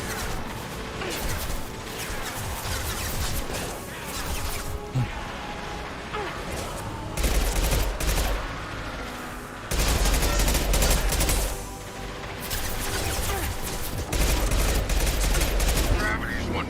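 Sustained gunfire and explosive blasts in Mass Effect 2, loud and dense, surging in heavy bursts with brief lulls, while voices occasionally call out over the combat.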